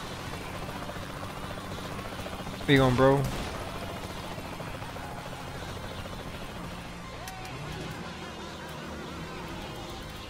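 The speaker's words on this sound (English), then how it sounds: "Where's that guy in the helicopter going?" A helicopter in the video game Saints Row The Third Remastered on Xbox One X gives a steady rotor drone throughout, while someone briefly speaks over it.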